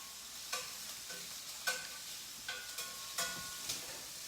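Garlicky shrimp cooking in a skillet: a steady low sizzle broken by sharp, bright scrapes and clinks of a utensil against the pan every half second or so, close up.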